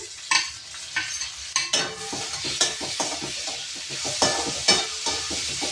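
Tomatoes fry in a pan for a fig stir-fry, a constant sizzle with repeated close stirring scrapes and light clinks of a spoon against the pan.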